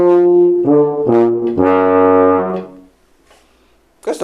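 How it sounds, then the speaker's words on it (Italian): A brass instrument plays a short legato passage from Berlioz's Symphonie Fantastique, rich sustained tones stepping through a few notes, then fades to near silence before a brief noise at the end. "C'è un passaggio, sempre nella Sinfonia Fantastica,"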